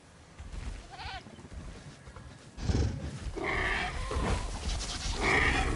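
A goat bleats in the Jurassic World Evolution video game, giving a short wavering cry, then several louder, overlapping bleats and calls against a busy ambient backdrop.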